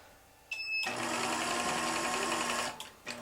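A home sewing machine restarts after a loose thread, running a steady, loud, rapid stitching whir for about two seconds before stopping, then starting up briefly again.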